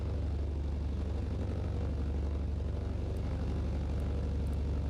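Propeller airplane engine droning steadily in Microsoft Flight Simulator 2020, a constant low, even hum heard from the cockpit with no voices.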